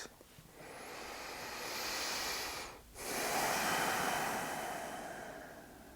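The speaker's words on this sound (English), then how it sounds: "we'll begin by 3 deep breaths" Slow, deep breaths during a guided meditation, a long airy inhale and exhale with a brief pause between, soft and close with no talking.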